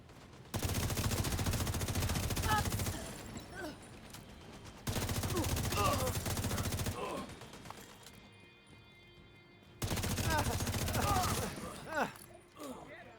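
An automated turret fires in a video game in three long bursts of rapid gunfire separated by short pauses, with a voice speaking faintly underneath the shots.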